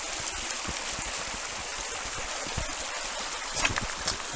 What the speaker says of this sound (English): I'm not going to cross this stream here. It'll just be a little... This water's fairly cold.